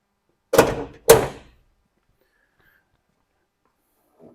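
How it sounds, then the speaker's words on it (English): A door with tightened hinges and a seal on the Lawn Ranger project build opens with two short, close, solid thunks about half a second apart, then silence. "I'm going to open this door up and take that seal out."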